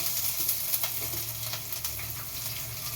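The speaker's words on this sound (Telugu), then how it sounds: "కావాల్సినంత ఆనియన్స్ అయితే వేసుకోండి." Onions sizzle steadily in hot oil for a chicken curry, a continuous dense crackle and hiss with small pops, close and fairly loud, with no talking.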